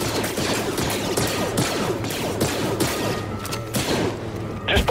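Rapid blaster gunfire in Star Wars Jedi: Fallen Order crackles in dense, overlapping volleys with sharp impacts and crashes, loud and continuous through the whole stretch.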